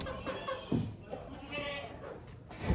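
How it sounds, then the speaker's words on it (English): A goat bleats at a farm where horses are being put out, a wavering cry heard mid-clip, moderately close, with human speech and rustling around it. "Oh, there's a goat there."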